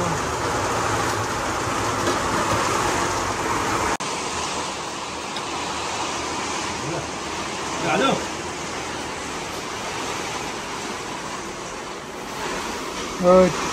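Dense, steady rain roars throughout in New Zealand, broadband and constant, with a couple of brief clatters and faint voices underneath.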